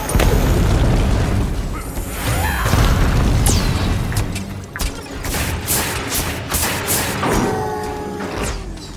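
A middle tower collapses in a SMITE match, with loud booming explosions and crumbling thuds over the first few seconds, followed by scattered bursts and clanks against game music.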